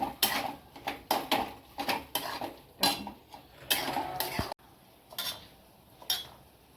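Veg noodles with green chili are stir-fried in a pan, heard as repeated quick metallic scrapes and clinks of a utensil against the pan in an uneven rhythm. The sound is close and fairly quiet, with no voices.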